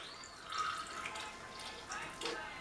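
Orange juice, 100% pure premium, is poured into a blender for a mixed berry smoothie: a quiet, brief liquid gurgle and splash lasting a couple of seconds, faint and close.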